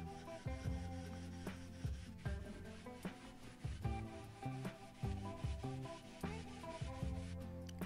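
Excess wax finish is buffed off a tealight holder made from scrap mahogany and pine door wood, producing quiet, steady, repeated rubbing strokes close up.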